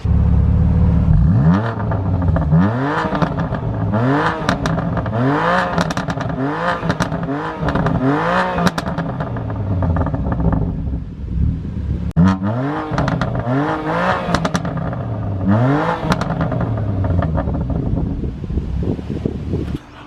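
A BMW M4 Competition fitted with a performance exhaust revs loudly and close up, in a rapid series of sharp throttle blips with a short pause midway and no talking.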